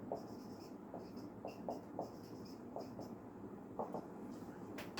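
A pen scratching out numbers on paper during a maths exercise, soft close strokes in short irregular bursts over steady low room noise.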